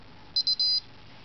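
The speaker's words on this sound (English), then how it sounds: "Oh, I set the timer here." A kitchen timer beeps in three quick high electronic tones, the last held longer, clear and close over quiet room noise.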